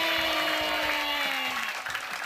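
A studio audience applauds in a short, dense burst of steady clapping, with a sustained tone running beneath it on an Indonesian comedy show.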